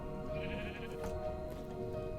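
Sheep bleat in the Minecraft 1.20.1 survival world, a few wavering calls that overlap over a steady backdrop, moderately near and unaccompanied by talk.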